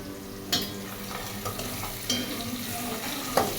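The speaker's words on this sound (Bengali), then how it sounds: "এই যে করলা বসাই রাখছে, করলা ভাজি করব" Bitter gourd frying in a pan at home, a steady low sizzle with occasional stirring scrapes and clinks standing out, close and moderate in level with no talk.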